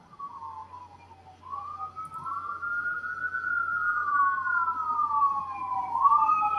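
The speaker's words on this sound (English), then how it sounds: "That one was an ambulance." An ambulance siren wails in a slow rising and falling sweep, growing steadily louder as it nears, alone with no voices.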